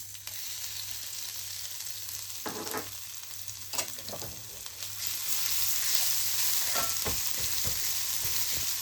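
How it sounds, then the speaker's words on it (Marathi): Cumin and crushed garlic drop into hot oil for a tadka, a close, crackling sizzle broken by clattering spoon stirs, swelling louder and denser in the second half, without speech. "तेल गरम झालं याच्यामध्ये जिरं घालू नंतर ठेसून घेतलेला लसूण"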